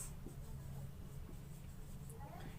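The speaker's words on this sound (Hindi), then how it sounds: "मैं देखिए इसकी डिफिनेशन भी लिख दे रहा हूं आपके लिए" A definition being written by hand during a physics lesson on units and dimensions: soft, close scratching strokes of a pen over a steady low background hum, short and continuous with no voice.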